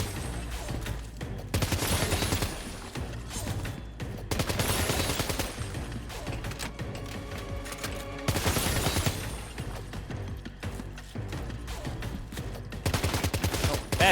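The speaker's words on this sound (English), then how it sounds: "We'll use the assault rifle. So, we've got 13 targets to shoot." Assault rifle fire at targets in Death Stranding 2, sounding as repeated bursts of rapid gunshots separated by brief pauses, loud and close throughout.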